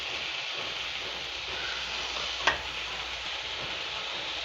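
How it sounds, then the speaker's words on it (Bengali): Fish frying with Malabar spinach in a pan, giving a continuous close sizzle and hiss with one brief clink of stirring partway through, no voices. "মাছগুলো দিয়ে একটু ভালো করে নাড়িয়ে দিচ্ছি।"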